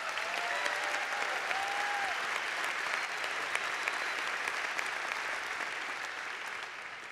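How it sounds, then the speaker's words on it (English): Applause from a crowd at a Cal Poly fall commencement in 2017, a steady wash of many hands clapping that carries on evenly and tapers slightly toward the end. "That is worth an applause right there."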